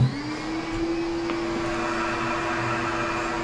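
A small vacuum unit on a Skat Blast sandblasting cabinet runs with a steady whining hum and a faint airy rush, continuous and close, with no talking.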